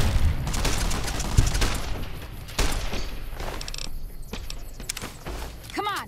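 Gunfire in the Fallout New Vegas video game comes as loud, dense bursts of shots and booming impacts with creaking mechanical clatter, continuing through most of the stretch.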